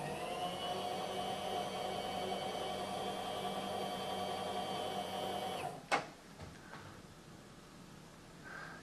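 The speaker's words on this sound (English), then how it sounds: "We clamp this part in the vise and take a pass along the surface." A metal-cutting machine takes a pass along a part clamped in a vise, giving a steady loud whirring drone with a high tone that ends abruptly near the six-second mark with a sharp clunk, followed by quieter mechanical rumble.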